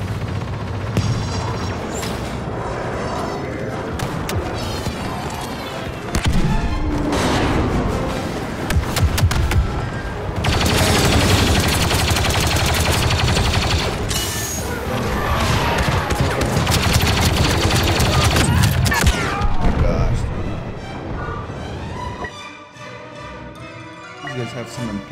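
Dense, continuous gunfire and booming artillery blasts from a Star Wars Battlefront II battle with walkers and speeders, loud and sustained for most of the stretch, fading toward the end; voices can be heard in the mix.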